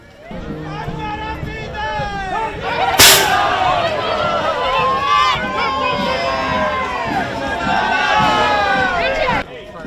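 Fireworks go off at the opening of a saints' feast after the Italian and U.S. national anthems. One sharp, loud bang cuts through continuous crowd noise, with shrill whistling tones sweeping up and down and people talking throughout.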